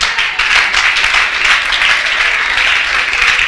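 Congregation at a French-language church youth gathering applauding steadily, a dense continuous wash of many hands clapping at close range with no pauses.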